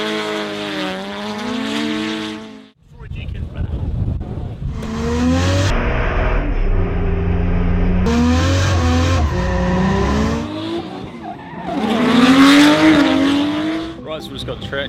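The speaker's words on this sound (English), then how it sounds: "How good of a wheelie should we wheelie? And that was a good wheelie." A race car on a track for a wheelie, its engine wailing loud and close with rising and falling pitch as it revs through gears, sustained for most of the stretch with a brief cut partway through.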